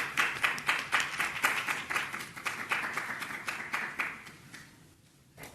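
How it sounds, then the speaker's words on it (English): A talk audience applauds at an expo, with steady dense clapping from many hands that holds for several seconds and then fades out toward the end. "So let's give her a round of applause."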